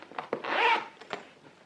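Zipper on the back of a large tote bag pulled in a few quick tugs, then one longer smooth zip, close and crisp with no talking.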